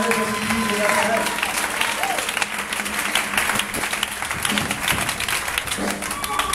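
A church congregation at a deliverance ministry service breaks into sustained applause and cheering, dense clapping that rises and persists with crowd voices mixed in.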